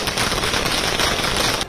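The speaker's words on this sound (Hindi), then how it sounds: "कार्यकर्ताओं में यहाँ पे फटाके फोड़े जा रहे हैं" Firecrackers go off in a loud, rapid, continuous crackling burst at a BJP office celebration in Gandhinagar, close and dense with no gaps.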